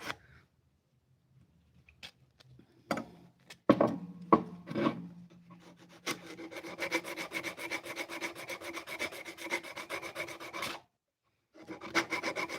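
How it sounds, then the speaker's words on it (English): Close hand sanding on a wooden knife handle: a few scattered scrapes, then a long run of rapid, rhythmic rasping strokes that stop briefly before resuming. "So we're going to do a little hand sanding to get us there."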